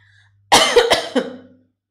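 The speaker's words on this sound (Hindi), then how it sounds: "ये सिर्फ बोलने की वजह से मुझे खांसी आई थी" A loud, close cough erupts in a quick run of three or four harsh hacks, rough and throaty, trailing off into silence.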